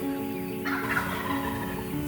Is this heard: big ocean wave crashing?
no